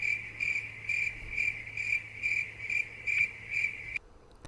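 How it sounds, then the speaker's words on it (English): Crickets chirp in a steady pulsing rhythm, a bright repeated trill heard alone and fairly close, stopping abruptly near the end. "There was a lot of crickets in that."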